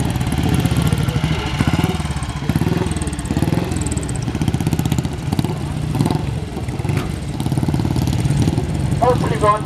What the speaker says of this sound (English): we'll start with the motor guzzi coming in. 1930s motor guzzi, a Super Ace, I believe it's called